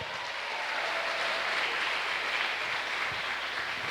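A church congregation claps along during a Tuesday worship service, a steady dense wash of hand claps that holds at an even level throughout with no voices breaking through.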